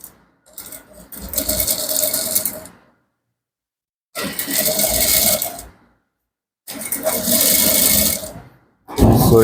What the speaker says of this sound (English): sew it down all through this way